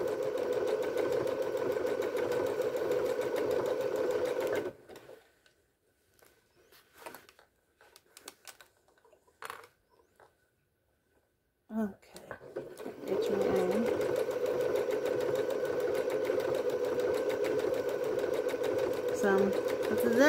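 Sewing machine stitching a seam on a skirt, a steady loud whir that stops for several seconds of near silence with faint handling noises, then runs again continuously to the end.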